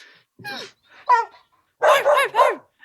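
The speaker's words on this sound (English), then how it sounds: "still barking into the woods" A dog barks several times up close, a couple of separate yaps followed by a quick burst of three barks.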